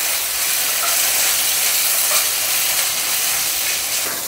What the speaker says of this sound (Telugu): ఇప్పుడు లెట్స్ యాడ్ గ్రౌండ్లీ చాప్డ్ టొమాటోస్.